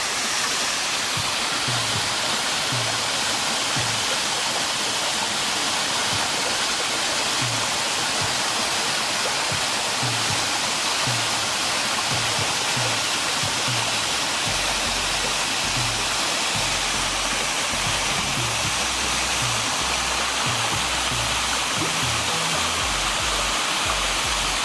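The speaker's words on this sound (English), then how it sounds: "what I want to get is this beautiful waterfall from a low angle here with this particular camera" A waterfall roars steadily and loudly, a dense unbroken rush of water recorded close from a low angle, with no other sounds rising above it.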